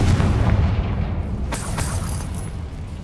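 A Confringo blasting spell detonates in Hogwarts Legacy, a loud, dense rumbling explosion that fills the clip, with a second sharp burst about halfway through before the boom tails off.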